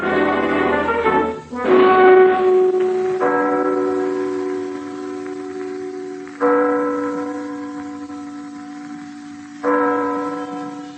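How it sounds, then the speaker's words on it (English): The bell tower of Copenhagen's town hall strikes the hour: loud, deep tolls arrive a few seconds apart, each leaving a long ringing decay that fades before the next stroke. "listening to the hour striking in the bell tower of the town hall of Copenhagen, capital of Denmark on the Baltic Sea"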